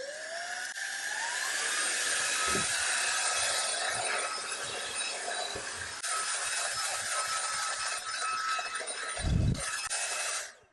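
Lubluelu cordless vacuum cleaner on high suction, a loud continuous high-pitched whine that starts with a rising pitch and holds steady, with scattered bumps and knocks from cleaning and a sudden stop at the end.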